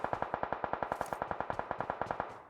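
Rapid automatic gunfire from an enemy in an online battle royale shooter match, about twenty evenly spaced shots in a steady burst, loud and alone with a faint echo tail.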